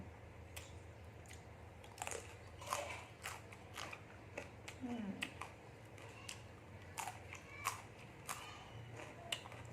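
Someone eats khanom chin rice noodles with chicken-feet jungle curry, producing faint, close crunchy bites and chewing clicks at an irregular rhythm, with no talking.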